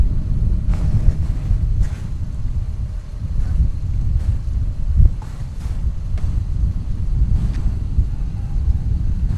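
A southeast wind of about 13 mph buffets an outdoor microphone at Dallas Fort Worth airport, a continuous low rumbling roar with occasional stronger gusts.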